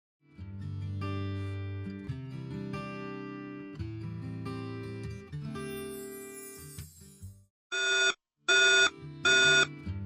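After a sustained synthetic tone sequence, a PV SmartGuard-63A controller beeps three times in loud, evenly spaced bursts, signaling alarm 2082, grid-tied or off-grid controller abnormal.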